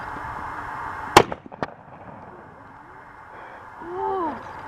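A gun fires outdoors on a farm with one sharp, loud crack and a quick echo or second pop just after it. Quiet ambience follows, and a faint voice murmurs near the end.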